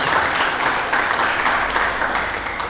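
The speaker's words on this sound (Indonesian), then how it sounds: "Mari kita berikan tepuk tangan yang meriah bagi Yesus" Church congregation applauding for Jesus during a sermon, a dense, steady wash of many hands clapping at a fairly loud, even level throughout.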